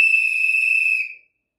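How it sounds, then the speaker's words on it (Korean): One long, shrill blast of an emergency whistle, loud and close, held for about a second before cutting off into silence. "제가 한번 호루라기를 불어서 큰 소리로 알려보도록 하겠습니다."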